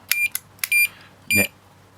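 A screaming padlock alarm emits several short, sharp high electronic beeps in an irregular pattern as the key goes in, loud and close, with a brief voice fragment near the end.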